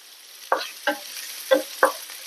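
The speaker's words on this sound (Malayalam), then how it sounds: "ഇനി നമുക്ക് മുറിച്ച് വെച്ചിരിക്കുന്ന സവാള വലിയ ഉള്ളി ഇതിലേക്ക് ചേർത്ത് കൊടുക്കാം" Chopped onions with chilli, ginger and garlic fry in a pan. Four distinct stirring scrapes ring out over a soft steady sizzle, close and fairly loud, with no speech.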